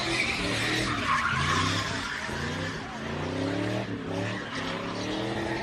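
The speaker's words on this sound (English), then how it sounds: "Just taking over an intersection, stopping all traffic, doing burnouts, launching fireworks." Cars doing burnouts at a San Francisco street takeover fill the air with loud, sustained tire squeals and skidding, overlapping screeches and revving engines heard up close without pause.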